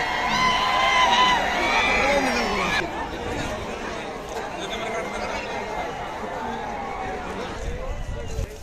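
A busy outdoor crowd at a bullock cart race in Pusegaon murmurs and shouts, with excited voices and someone talking over the steady din.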